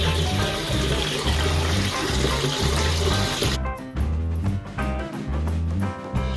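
Water drains from a cut pipe during a hot water tank replacement, running in a loud, steady gush, then thinning into an uneven trickle of splashes and drips.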